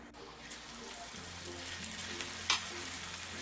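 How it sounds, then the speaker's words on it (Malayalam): Cutlet mixture frying in oil in an iron pan over a medium flame gives a steady, close sizzle with a couple of small sharp pops. "ഇനി ഇതിലേക്ക് നമ്മൾ ഈ ഫില്ല് ചെയ്ത് വെച്ചിരിക്കുന്ന ഈ കട്ട്ലറ്റിൻ്റെ കൂട്ടിട്ട് ഫ്രൈ ചെയ്തെടുക്കാം."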